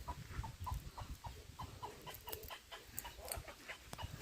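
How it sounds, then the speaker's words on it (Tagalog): A chicken clucks repeatedly in quick, uneven bursts, moderately close, with faint background noise around it. "Ang ingay naman tong manok na to."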